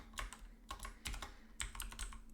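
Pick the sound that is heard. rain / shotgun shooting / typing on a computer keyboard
typing on a computer keyboard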